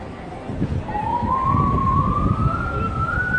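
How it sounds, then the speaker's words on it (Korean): An ambulance siren wails with a slowly rising tone over street traffic noise in Insadong, Seoul, moderately loud and fairly close, lasting a few seconds. "오 앰뷸런스."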